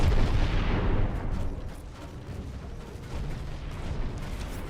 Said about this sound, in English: We're gonna get our broadside cannons on these things.